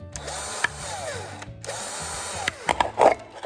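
Holes are being drilled in plastic yogurt cups with a cordless power drill, which whines in two bursts with a short gap between them, followed by a few louder clattering knocks as the cup is handled.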